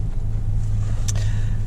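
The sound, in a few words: car engine running while sitting in car in rain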